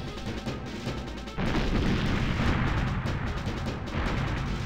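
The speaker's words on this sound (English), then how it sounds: "Nice explosion." Explosion in the video game 007 GoldenEye, a sudden loud burst that jumps out of an already noisy rumble and then holds as a sustained, roaring crackle.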